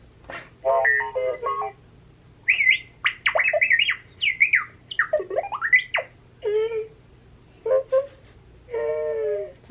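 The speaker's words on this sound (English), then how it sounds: "Yeah, it sounds just like R2D2" A 2019 Star Wars Galaxy's Edge R-series astromech droid toy chirps out R2-D2-style beeps, warbling whistles and sliding squeals in short, close bursts separated by brief pauses.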